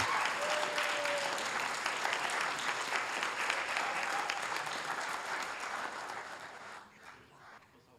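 Sustained applause from an audience at a Hayward city council meeting, honoring a group called Alley Cats; dense clapping holds steady for several seconds, then tapers off and fades near the end.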